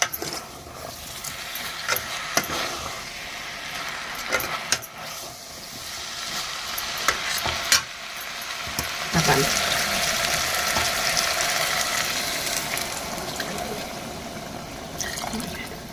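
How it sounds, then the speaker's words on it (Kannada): Water is poured into a pot of rice mixed with ingredients for pulao and stirred, giving a continuous rushing, splashing hiss with scattered clinks and scrapes throughout. "ಮಿಕ್ಸ್ ಮಾಡ್ಕೊಂಡು ಈಗ ನೀರು ಹಾಕ್ತೀನಿ"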